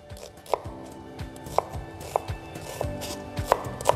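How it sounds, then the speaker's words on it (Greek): A knife chops an onion on a cutting board, giving sharp, evenly spaced knocks roughly every half second, close and clear with a quiet room behind them. "Κόβω το κρεμμύδι."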